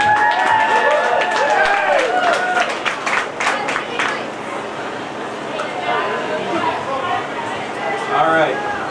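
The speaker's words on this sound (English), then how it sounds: "All right, one more round of applause" Audience at a Comic Con cosplay parade clapping and cheering, a dense burst of applause for a few seconds that thins into crowd chatter, with an announcer speaking over the noise.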